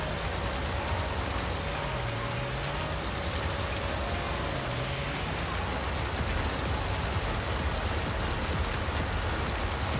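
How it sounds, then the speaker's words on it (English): Steady, hissing video game rainfall in Farming Simulator 19 pours continuously with a faint low tone underneath, even and unbroken throughout. "Oh my god, rain."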